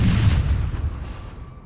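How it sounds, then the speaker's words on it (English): Gunshot sound effect added after a backstab in the Elden Ring video game: one loud, booming report with a short decaying tail, heard alone. "I'm adding the gunshot sounds after each backstab"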